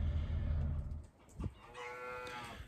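Beef cattle at a hay barn let out a single long, fairly close moo that rises and trails off, with low farm rumble before it.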